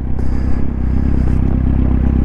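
Loud, steady exhaust drone from a Kawasaki Z750R motorcycle engine running close by, a continuous low rumble with faint clattering throughout and no talk.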